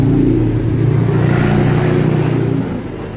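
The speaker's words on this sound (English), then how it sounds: "because it is a pretty noisy highway." Steady, loud roar of cars speeding past on a busy highway across the street from a house, continuous engine and tyre noise that fades slightly near the end, with no voices.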